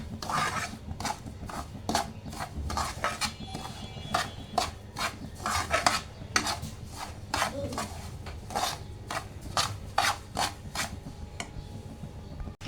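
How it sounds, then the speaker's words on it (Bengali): Semolina fried in ghee and stirred in a pan, with repeated scraping strokes at a steady rhythm, close and moderately loud, over a low continuous background. "এটাকে আমি ভালো করে ঘিতে ভেজে নেব।"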